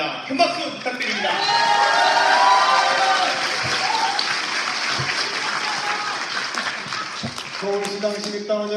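A party audience at a Democratic Party new-members event claps loudly and continuously to welcome Ahn Hee-jung, with shouts and whoops and some voices and music-like tones over the applause, easing off near the end.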